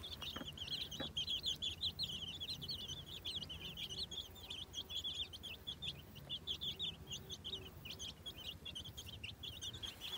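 Chickens cluck and chirp steadily in a garden, close and fairly quiet, with repeated short calls throughout against soft background rustle.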